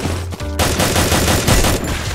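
Rifle fire in the Free Fire mobile game's zombie siege mode: dense, loud bursts of rapid shots pile into continuous gunfire, with a short gap near the start before the volley resumes without pause.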